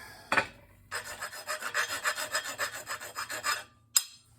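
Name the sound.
deburring metal with a hand file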